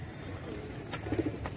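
Pigeons coo softly inside a pigeon house, a few low rounded coos rising briefly above a steady room murmur.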